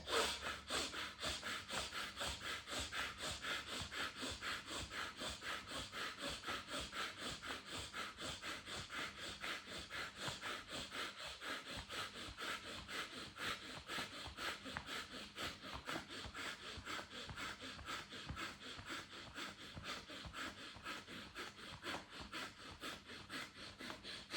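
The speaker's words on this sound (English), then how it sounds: "Now massage sides of your arm with your hands." Hands rub and massage the sides of the arms in a yoga and breathwork routine, a steady, fast, repeated swishing friction that continues evenly throughout at close range.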